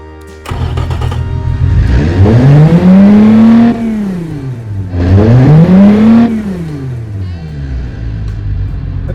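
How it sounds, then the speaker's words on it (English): Delivery van engine in the BeamNG driving game, rear-wheel drive with a three-speed automatic, a single muffler and unleaded fuel, revving loudly up and down twice in smooth swells, with no talking. "That sounds pretty good for a weird delivery van"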